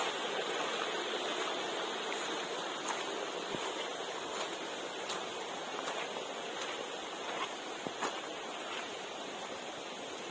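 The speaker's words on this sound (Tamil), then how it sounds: "பாருங்க, அருவிலேருந்து தண்ணி வர்றது" Water pouring down the TP Kota waterfall in Andhra Pradesh, a steady dense rushing roar that fills the scene without pause, with occasional faint clicks over it.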